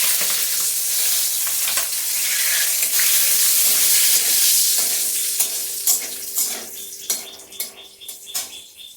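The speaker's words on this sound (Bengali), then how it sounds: "শুকনো লঙ্কাটা ভাজা হয়ে আসুক," Dry red chilies, bay leaves, cardamom, cinnamon, cloves and peppercorns fry in oil in a karai with a loud steady sizzle, later broken by scraping stirs and clinks of a utensil against the pan.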